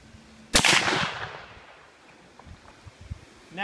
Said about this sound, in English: we're using a World War II 8mm Mauser rifle with a bullet of this size right here